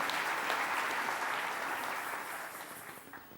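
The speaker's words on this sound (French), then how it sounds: "Acclamez pour vous-même." Audience in a church service clapping for themselves, dense steady applause that fades out toward the end.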